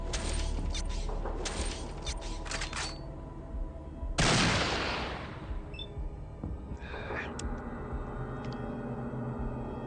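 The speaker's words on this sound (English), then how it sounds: "why does he have to burst fire in that position?" Burst-fire gunshots in the video game Fallout 1: a cluster of sharp rapid cracks early on, then one heavy blast with a long decaying tail, followed by scattered fainter clicks.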